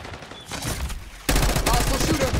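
Rapid automatic gunfire in Call of Duty Black Ops 6 bursts in loud and close partway through, preceded by fainter shots and game noise, with a voice briefly audible.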